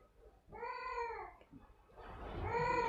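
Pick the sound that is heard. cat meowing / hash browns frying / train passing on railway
cat meowing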